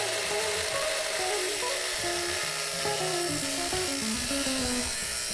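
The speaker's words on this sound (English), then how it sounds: "I line up the cutoff wheel and it slices right through the keg" Cutoff wheel slicing through a steel Sanke keg, a continuous abrasive grinding screech with shifting pitch as the disc bites into the metal, loud and steady throughout.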